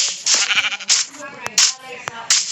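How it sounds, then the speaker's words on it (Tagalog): Sheep bleating in the Minecraft video game, a run of short nasal bleats repeating in quick succession, loud and close, with no talk over them. "Bakit ang laki naman ng tupa nila rito?"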